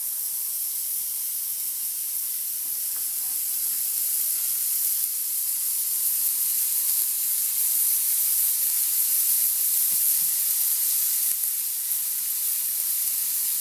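Koftas sizzling steadily in a hot pan, a loud, even, continuous high frying hiss with no breaks, heard up close and alone.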